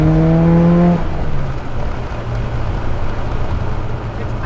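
A 600-horsepower Mitsubishi Evo X with a built 2.2-litre stroker engine, driven fast: a loud, steady engine drone with road noise, opening with a brief rising tonal whine.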